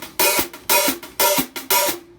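Drum kit playing a beat with a 3/16 hi-hat pattern laid over it: four loud, evenly spaced bursts of cymbal wash over low drum hits, close and unaccompanied by talk, ending in a brief decay.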